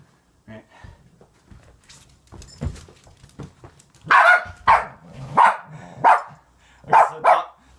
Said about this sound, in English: so the dog's barking at me